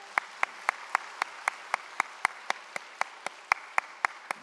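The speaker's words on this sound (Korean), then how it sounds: "박수 한번 쳐주세요" A church congregation at a Sunday service claps in unison, about seventeen sharp, evenly spaced claps in a steady rhythm, fairly close and clear with no talk.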